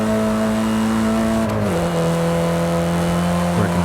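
A front-wheel-drive car in Forza Horizon 5 drives along with a steady, buzzing engine note that drops as it shifts up and then holds, loud and close, with no voices.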